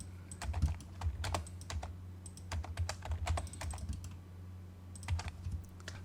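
Keys on a computer keyboard are tapped to enter a value in AutoCAD, then Enter is pressed, producing crisp close clicks in irregular clusters over a faint low hum.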